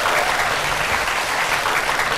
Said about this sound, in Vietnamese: xin mời mọi người hãy dành những tràng vỗ tay thật lớn để cho chương trình Vườn Âm Nhạc được bắt đầu ạ